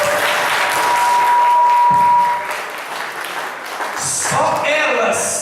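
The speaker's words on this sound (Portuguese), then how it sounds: "Homens, por favor, uma salva de palmas para as mulheres." Applause in a room during a talk on marriage, a dense wash of clapping for the first two seconds that fades, followed by voices and shuffling.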